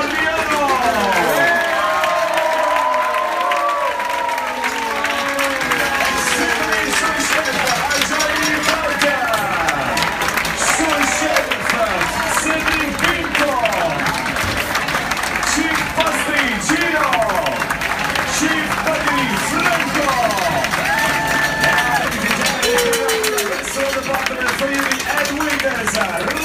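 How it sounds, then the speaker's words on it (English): A dining room audience aboard the MSC cruise ship applauds the dining staff, giving sustained, dense clapping and crowd noise throughout, fairly loud and steady with cheering voices mixed in. "let's start with a big round of applause"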